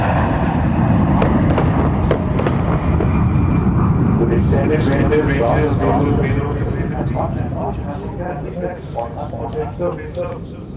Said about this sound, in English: C-17 Globemaster 3, escorted by 2 Sukhoi 30 MKI